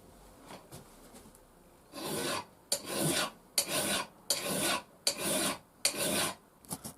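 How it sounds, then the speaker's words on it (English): Metal file rasping along the spine of an old Mora knife, about six rhythmic strokes with short pauses between, close and fairly loud after quieter scraping at the start. "putting a file on it."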